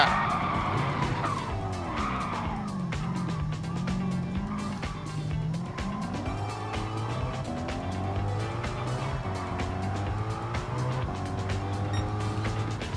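Race car in a racing game skidding and spinning out, with continuous tire squeal sweeping up and down over a droning engine for the whole stretch, loud and close.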